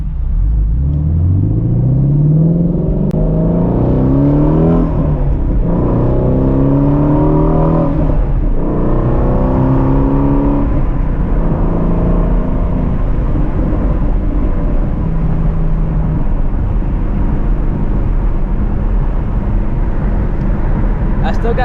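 A Shelby GT350 engine revs and downshifts while driving at night in the rain, loud and close, with rising and falling pitch sweeps and throttle blips between gears, and someone talking over it.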